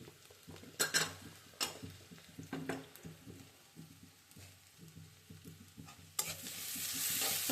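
Onions sizzle in a hot pan on high heat as a spoon stirs them in repeated scraping strokes, with clinks against the pan and a louder hiss rising near the end.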